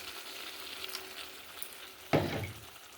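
Water poured into a pan of cauliflower curry masala frying in a village kitchen, a sudden loud sizzling burst rising over a steady background fry and fading slowly.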